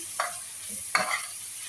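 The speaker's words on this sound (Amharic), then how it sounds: "ነጭ ሽንኩርትን ከጨመርኩበት በኋላ እንደዚህ አዋህደዋለሁ" Two quick scrapes of a spoon stirring garlic and onions in a cooking pot, close and distinct over a faint background hiss, with no talking.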